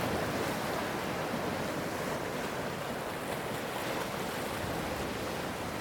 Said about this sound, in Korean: 넘실대는 파도에 압도되어 무섭기까지 하네요.